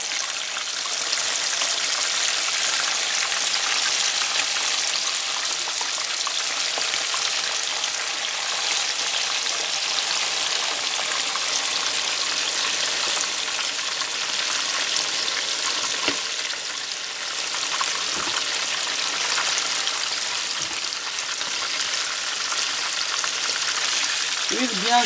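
Meat frying in very hot oil for Congolese spiringues, a loud dense continuous sizzle and crackle with a few faint knocks, steady for the whole stretch.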